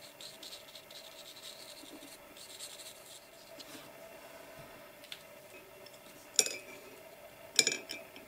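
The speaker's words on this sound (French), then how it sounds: "je vais carrément dessiner les sapins" School felt-tip markers sketching fir trees on paper, giving a soft, quiet scratching and rubbing, followed by two crisp clicks near the end.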